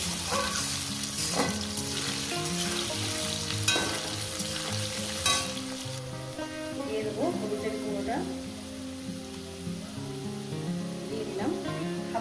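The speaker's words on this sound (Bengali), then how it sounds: "এটা আলুটাকে ভাজবো আলু ভাজা হয়ে গেছে" Potatoes fry and sizzle in an oil-filled pan, a dense crackling hiss broken by repeated scraping and clinking of a spoon as they are stirred, with a voice talking intermittently over the cooking.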